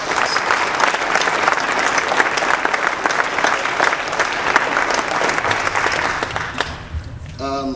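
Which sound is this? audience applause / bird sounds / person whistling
audience applause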